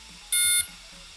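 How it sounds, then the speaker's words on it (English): DJI Spark drone giving a short, sharp high-pitched electronic beep, a single clear tone lasting about a third of a second against quiet background. "so that's 2 beeps"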